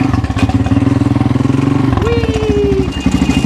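A Honda XR200 dirt bike runs loudly and close by, its single-cylinder engine chugging steadily before a short rising rev, with a voice briefly audible over the motor.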